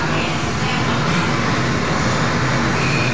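An Indonesian Air Force Boeing aircraft at Halim Perdanakusuma airbase, heard as a loud, steady broadband jet engine roar filling the whole stretch without pause.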